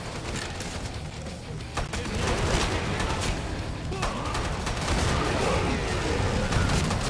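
Gunfire in the co-op shooter Killing Floor 2, a continuous dense barrage of shots and impacts with in-game chaos filling the whole stretch, loud and close.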